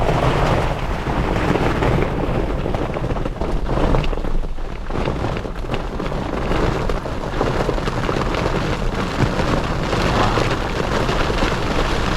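Heavy rain comes down hard during an Indiana thunderstorm, a loud continuous roar with gusty buffeting, as if heard from shelter, steady over many seconds.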